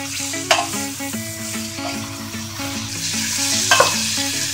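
A leek dish sizzles in a pan and is stirred, a steady frying hiss with occasional utensil scrapes, under a constant tonal hum and with no talk.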